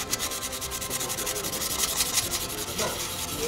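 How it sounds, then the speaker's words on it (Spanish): Steady rhythmic wet sanding of a car headlight with 320-grit wet sandpaper, close up, with quick back-and-forth strokes and no talking. "empezamos a lijar. Lija el agua 320 primero"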